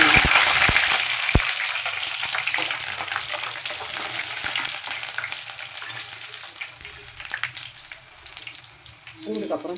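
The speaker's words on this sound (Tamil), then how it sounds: "வடகம் வெடித்தோடனே" Steady sizzling and crackling of vadagam spluttering in hot oil for kara kuzhambu tempering, close and continuous, fading slightly toward the end.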